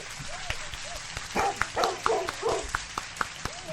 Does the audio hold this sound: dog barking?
yes